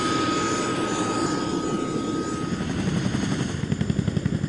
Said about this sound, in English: This is an ex-military CH-47D helicopter, the Chinook.